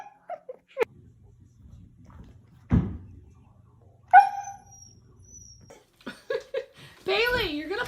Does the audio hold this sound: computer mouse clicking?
no